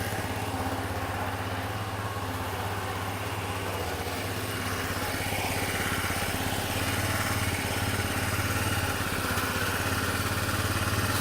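A rebuilt Honda Elite 150 scooter engine runs at a steady idle, a continuous close mechanical drone that keeps going evenly throughout.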